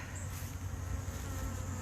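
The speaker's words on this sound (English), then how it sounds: "So there's quite a lot of bees in here" Dense, steady buzzing of many honey bees in a crowded backyard hive on a very hot day, with bees bearding outside; a close, continuous drone with no voices.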